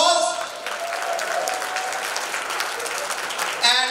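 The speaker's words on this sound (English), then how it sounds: "give them a big round of applause." An audience at the closing of a district training assembly gives a steady, dense round of applause lasting the whole few seconds, with no break in the clapping.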